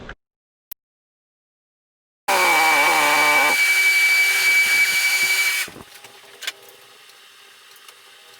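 On a dyno, a Yamaha YZ450F engine fitted with a Twin Air Power Flow filter suddenly roars to a loud, sustained high-revving wail for about three seconds, then drops to a low idle rumble with a few clicks.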